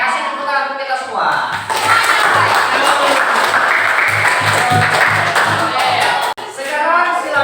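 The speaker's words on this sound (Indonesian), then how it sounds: "kasih tepuk tangan untuk kita semua" A seated audience at a university teacher-assessment session bursts into loud, sustained applause with scattered cheering that fills several seconds, then fades as a voice comes back in.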